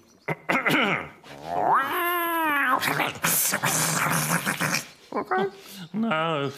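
Animated cartoon cats meow and yowl up close, with several drawn-out cries, mixed in with people talking in the same space.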